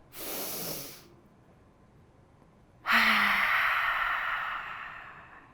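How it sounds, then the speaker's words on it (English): Two audible breaths during a conference keynote relaxation exercise: a soft inhale, a pause of near silence, then a longer, louder exhale that slowly fades, with no talking. "Now take 1 minute to take a good deep breath with me."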